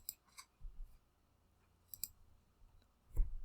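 Computer mouse clicking in a spreadsheet: a few sharp, close clicks in separate small clusters with quiet gaps between, no talk.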